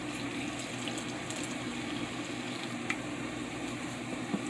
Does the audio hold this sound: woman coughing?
no